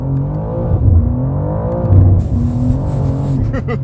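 BMW car accelerating at full throttle, the engine note climbing loudly and close with harmonic revving, then a rushing wind-like hiss joining in partway through.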